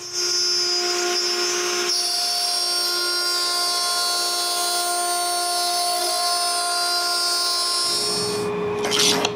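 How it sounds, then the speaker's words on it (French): A router cuts grooves in the long pieces of small mahogany and maple boxes, guided by two stops. It gives a steady, loud, high-pitched whine that holds for about eight seconds, then spins down and stops. "je mets 2 butées et je coupe les rainures des longs morceaux"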